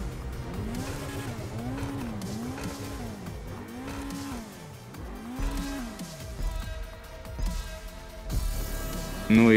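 A Hijak Ruston race car laps a circuit in GTA Online, its engine whining up and down through repeated gear shifts at steady loudness, with tire squeal and a louder burst near the end.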